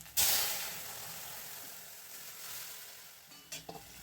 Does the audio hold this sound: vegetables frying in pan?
yes